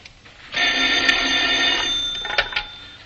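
An old-fashioned telephone bell rings in one sustained burst, loud and close, followed by a couple of short trailing rings.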